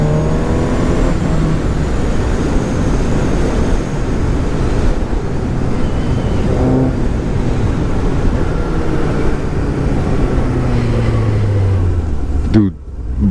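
A 2017 Suzuki GSX-S750 motorcycle engine on a test ride, loud and close with rising and falling revs under heavy wind rush, ending in a sharp burst near the end.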